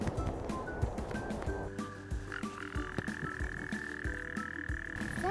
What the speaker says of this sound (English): it sounds like a toad croaking